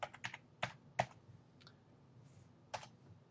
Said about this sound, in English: we're going to type in Gmail.